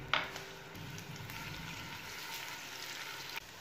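Chopped ginger and garlic cook on a hot tawa with a steady, soft sizzle that holds evenly throughout, with a brief louder crackle at the start and no voices.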